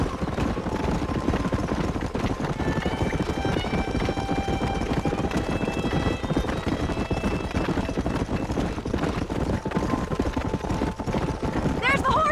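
Horse hooves clip-clopping in the Red Dead Redemption video game, a dense, rapid galloping rhythm running steadily throughout, close and loud, with game music tones and voices mixed in.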